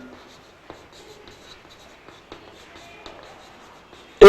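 Chalk or marker scratching on a board in a classroom lesson on simple harmonic motion, soft intermittent strokes and taps close by, ending in a sudden loud noise.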